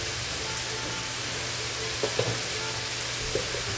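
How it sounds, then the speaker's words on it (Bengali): A hilsa fish head with chopped ash gourd sizzles steadily in a pan, a constant close frying hiss broken by a few soft scrapes of stirring, with no talking. "এখন ভালো করে নাড়াচাড়া করব আর ঢেকে দেবো"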